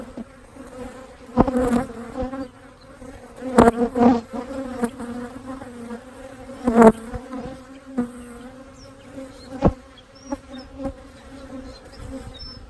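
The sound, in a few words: honeybees buzzing around an open hive frame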